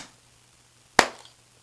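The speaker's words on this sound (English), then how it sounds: "when I make a loud enough noise with clapping of my hands, it should take a picture for me." A single sharp hand clap rings out near and loud after quiet room tone, fired to trigger a Canon T2I camera running Magic Lantern firmware, with a brief decay afterward.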